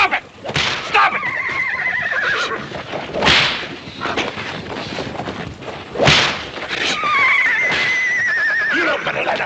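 A frightened horse whinnies repeatedly in loud, rising squeals while whip cracks and thuds strike between the cries, close and chaotic, with no clear talk over it.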